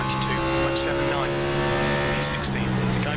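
NASCAR stock car in the iRacing simulator at Atlanta, its steady engine drone holding a constant pitch throughout with a few faint tire or chassis noises, while a voice talks over it.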